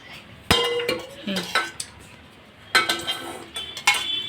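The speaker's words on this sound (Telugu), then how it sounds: "ఇప్పుడైతే కళాయి పెట్టుకున్నా కొద్దిగా వేడి అవ్వాలి ఆయిల్ అయితే వేసేసుకుంటున్నా" A kadai being set down on a stove and oil poured in: a sharp metallic clank, then scattered clinks and knocks of pans and utensils, close by, with brief quiet gaps.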